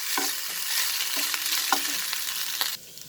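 Vegetable fried rice with spring onion greens being stir-fried in a pan, a continuous bright sizzle with repeated spatula scrapes and taps at a steady pace, close and clear, ending abruptly as the heat drops.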